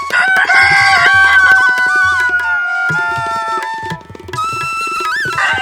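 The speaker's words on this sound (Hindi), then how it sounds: "आगे बढ़ते बढ़ते चिंकी ने देखा कि एक झाड़ी में एक सुनहरी मुर्गी फंसी हुई है।" A rooster-like crowing call rings out loudly over music, with repeated clucking fowl sounds close by and bright tonal backing throughout.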